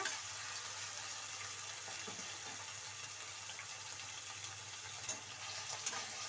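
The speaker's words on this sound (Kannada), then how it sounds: "ಕಟ್ ಮಾಡ್ಕೊಂಡಿರುವಂಥ ಟೊಮಾಟೊ ಹಾಕೊಳ್ಳಿ ನೋಡಿ ಸ್ವಲ್ಪ ಎಣ್ಣೆಯಲ್ಲಿ ಫ್ರೈ ಆಗಬೇಕು ಟೊಮೊಟೊ ಎಲ್ಲ" Chopped tomatoes frying in oil in a pan for a brinjal curry, a soft steady sizzle with faint clicks and scrapes, quiet and continuous with no voices.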